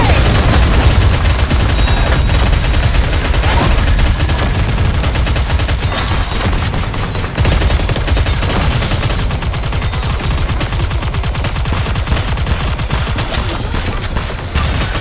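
Aegis cannon firing in the video game NIKKE, a dense, loud, continuous barrage of rapid gunfire-like blasts and booms that fills the whole stretch without pause, no speech over it.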